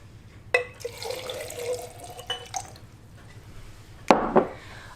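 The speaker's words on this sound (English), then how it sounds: "we are going to pour our cup of water into our soil grapes and see what happens" Cup of water poured onto soil grapes in a liquid aeration demonstration, heard as two brief splashes, the larger burst near the end, over a steady low hum.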